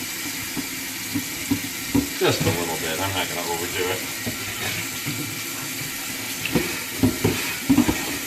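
Tap water runs steadily into a kitchen sink for filling and rinsing a pressurized water fire extinguisher, with bursts of splashing and clatter as a person talks nearby.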